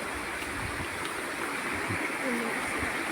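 Small waterfall and stream at Barangay Katipunan, steady broadband rush of flowing water with gentle gurgling, continuous and fairly near, no speech.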